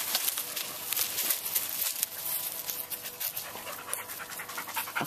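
Two dogs pant rapidly and heavily after running and barking, close up and continuous, with a few small whimpers mixed in and no talking.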